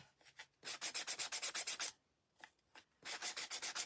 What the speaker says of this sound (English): sand my edges off.